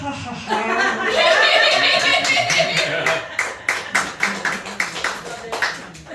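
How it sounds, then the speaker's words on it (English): A comedy club audience at the Whiskey Cellar in NYC breaks into applause mixed with chuckles, then fades into scattered, distinct claps and taps. "A little bit of applause for my super topical Morrissey impression."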